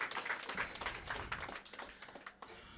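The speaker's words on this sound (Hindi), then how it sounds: "एक बार फिर से जोरदार तालियां शुभम के लिए" An audience at a Hindi open mic comedy night claps for comedian Shubham: dense, sustained applause that thins out toward the end.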